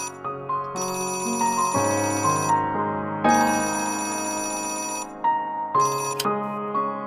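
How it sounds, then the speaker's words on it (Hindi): A telephone rings in a home in a Pakistani drama, three long electronic ringtone bursts separated by short pauses, clear and alone with no talking. "शायद खालिद का फोन होगा।"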